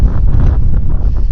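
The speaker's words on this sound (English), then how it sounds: "Starting to get windy." Strong wind in the Lost Creek Wilderness buffeting the microphone, a loud continuous low roar with gusty fluctuations and no voices.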